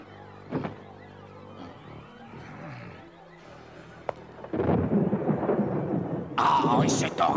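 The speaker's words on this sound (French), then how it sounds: "et cet orage qui n'en finit pas" Thunder from a storm that will not let up, with a sharp crack early and a heavier rumble joining steady rain in the second half, then a bright hissing burst at the end; indoor setting, no speech.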